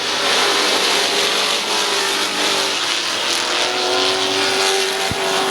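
Open street stock race cars roaring together around Midvale Speedway, a loud, continuous wash of engine noise with rising and falling tones as the pack circles the track.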